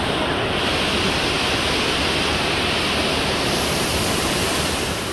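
Constant rushing roar of a waterfall in Watkins Glen State Park gorge, loud and near, a smooth broadband wash of cascading water that holds steady throughout.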